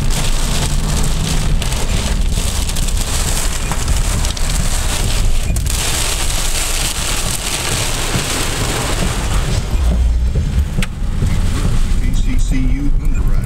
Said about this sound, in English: the rain was coming across the road like that